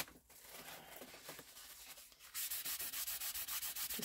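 A piece of tissue rubbed briskly over a stamped emboss-resist card made with Stampin' Up products, giving steady rhythmic scrubbing strokes that grow louder and faster in the second half, close and with no talking.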